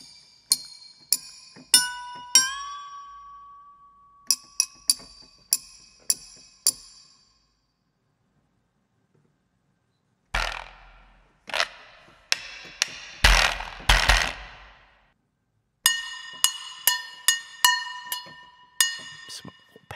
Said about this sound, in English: Horseshoe.